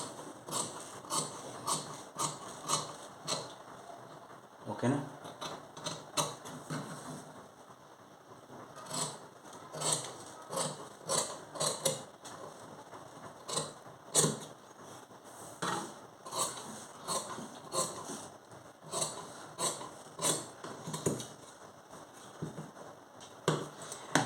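Tailor's scissors cutting shirt fabric, a steady run of crisp snipping and blade clicks repeating rapidly throughout, close and fairly quiet with no talk.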